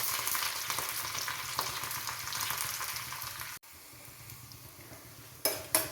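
Curry leaves fry in oil in a pan with shrimp and jackfruit seed curry makings, giving a dense, loud hiss that drops to a quieter sizzle midway, then two sudden spitting bursts near the end.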